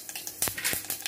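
Mustard seeds, cumin and dried chillies sizzle in hot oil for a bottle gourd curry, a close crackling fry with sharp popping bursts and light scraping of a spoon stirring the pan.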